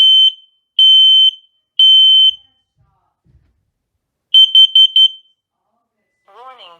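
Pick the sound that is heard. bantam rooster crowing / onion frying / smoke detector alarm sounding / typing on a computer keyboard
smoke detector alarm sounding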